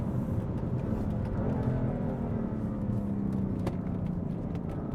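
A BMW F80 M3 driven in Sport Plus mode produces a steady engine drone heard from inside, with a slowly shifting pitch and an even, sustained level.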